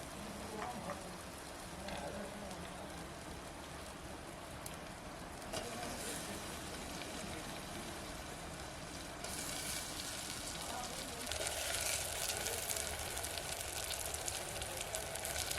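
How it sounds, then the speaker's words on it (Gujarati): Fenugreek seeds and potatoes go into a cooked spice masala over a village cooking fire, producing a steady broad sizzle and hiss that persists throughout and grows louder and brighter toward the end. "મસાલો તો પાકી ગયો છે મેથી બટાટા નાખી દઈ"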